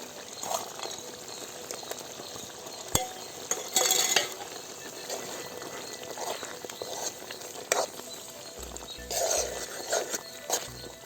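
Fried dry fish stirred into cooking potato masala in a pan: soft sizzling under repeated scraping and clinking of a spoon against the pot, with a few sharper knocks.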